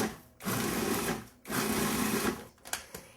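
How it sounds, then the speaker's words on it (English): A food processor pulses dry coffee cake ingredients in two sustained whirring bursts with a short pause between, then a few quick stuttering taps at the end, close and steady, without any speech. "So all our dry ingredients are going to go into our food processor."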